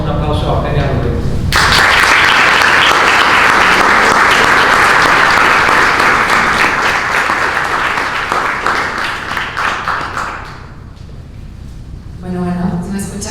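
An audience at a talk breaks into loud, sustained applause welcoming a speaker, swelling and then gradually fading out, with a voice heard briefly before and after.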